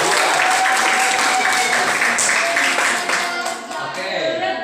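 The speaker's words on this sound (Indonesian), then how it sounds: "tepuk tangan buat kelompok." Classroom applause for a student group in an Islamic jurisprudence (fikih) lesson at an Indonesian madrasa, a burst of many hands clapping loudly at first, then thinning and tapering with some chatter.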